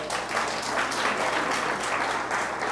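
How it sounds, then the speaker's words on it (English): An audience claps steadily in a room, a dense, continuous round of applause heard close and fairly loud without a break. "I think that deserves a round of applause."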